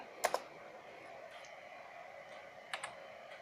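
Keys tapped on a desktop computer keyboard during a repair check after fitting a DVD-ROM drive and hard disk: two short bursts of crisp clicks, one near the start and one near the end, over a quiet room hum.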